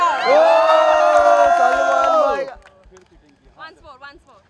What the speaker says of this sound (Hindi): एक बार हूटिंग तो बनती है भाई